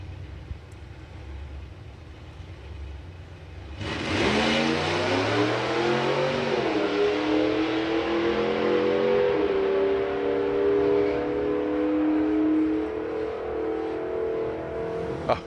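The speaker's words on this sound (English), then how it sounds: "big block Chevy, don't you just love them? So I believe it's a 454 in this one." A big block Chevy 454 drag car, a ten-second car, rumbles at idle, then its engine bursts into a loud, sustained rev around four seconds in and climbs steadily in pitch, close and alone with no voices.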